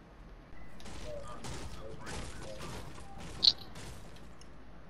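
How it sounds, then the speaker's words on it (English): Gunfire in the Fortnite video game sounds as a quiet, distant volley of shots under low game ambience, with one short sharper crack near the end, and there is no talk over it. "Oh yeah, I hear shooting."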